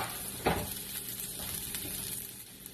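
Garlic frying in a little cooking oil gives a close, steady sizzle with a stir or clatter near the start, continuing evenly at moderate volume.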